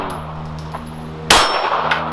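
Single sharp metallic clang of a 9mm round striking a steel target plate at an outdoor range, a bright ringing hit over steady low background hum, decaying slowly.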